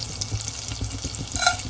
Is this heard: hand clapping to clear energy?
no